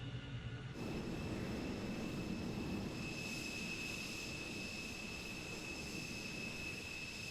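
An Avro Vulcan's jet engines spin up in Microsoft Flight Simulator 2020, starting as a low rumble and holding a steady, fairly quiet roar with a thin high whine above it.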